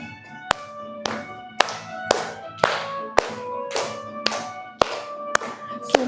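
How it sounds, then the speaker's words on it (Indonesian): A fourth-grade class claps hands together in a steady, even beat of about a dozen sharp, crisp claps, close and clear with no talking. "Ulangi sambil tepuk loh, biar semangat ya."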